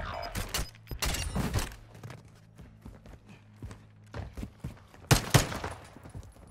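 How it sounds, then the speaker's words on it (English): Call of Duty MWII gunfire: scattered sharp shots and short bursts at moderate distance, irregular and spread across several seconds, with a cluster of louder cracks near the end over low game ambience. "Who's shooting?"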